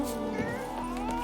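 A cat in The Witcher 3 gives a short meow over steady game music, with a voice talking faintly underneath.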